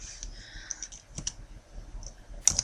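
Keys clicking on a computer keyboard as a number is typed, a handful of sharp, irregular taps, close and alone, with short pauses between them.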